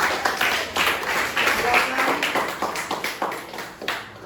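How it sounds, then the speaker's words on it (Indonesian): Classroom applause for the first student group after a presentation on the properties of the church, a steady patter of many hands clapping close by for about four seconds. "kita beri tepuk tangan untuk kelompok 1"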